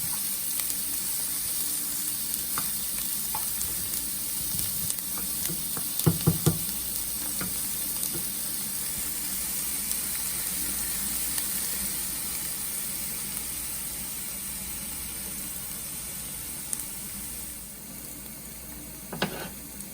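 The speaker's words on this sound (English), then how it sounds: "Slowly stir. So until the onion is golden brown." Onion fries and is slowly stirred in a pan for Nepali-style spicy tofu: a steady, even sizzling hiss, with a brief cluster of spatula scrapes midway and another near the end.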